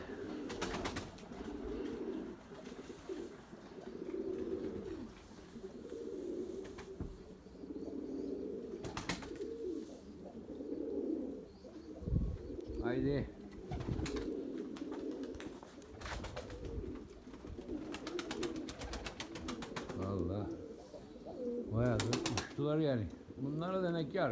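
Pigeons coo repeatedly in a loft, soft throaty rolling calls coming in overlapping bursts, with occasional wing flaps and people talking nearby.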